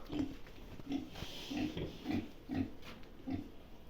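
A young piglet under a month old grunts softly in a repeated, evenly spaced series of short oinks, close and fairly quiet, with no talk.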